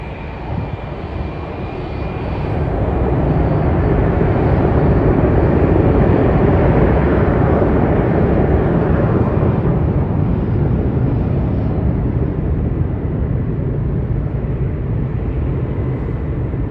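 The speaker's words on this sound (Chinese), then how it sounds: "现在飞机已经转到跑道上， 准备起飞了。" A passenger airplane takes off from the runway at Dalian airport, its jet engines swelling into a loud, sustained roar that holds steady before easing slightly.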